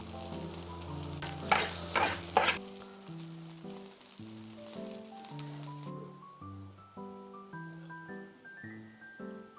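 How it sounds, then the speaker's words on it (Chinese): Egg fried rice stir-fried in a wok, a loud sizzle with scraping stirs for the first few seconds that then drops away under music. "调味过后要快速的翻炒几下就可以出锅了"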